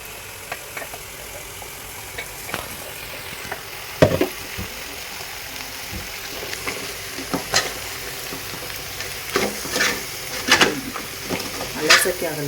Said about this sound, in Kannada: ಏಡಿ ಎಲ್ಲ ಇವಾಗ ಬೆಂದಿದೆ. ಇವಾಗ ಅಕ್ಕ ಮಸಾಲೆ ಹಾಕ್ತಾ ಇದ್ದಾರೆ ನೋಡಿ.